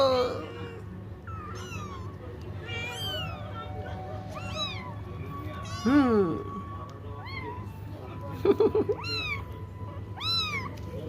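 A house cat meows repeatedly in a quiet room, a series of rising and falling calls spread over several seconds, some short and some drawn out, close by, with a person's occasional voice and soft murmurs between them.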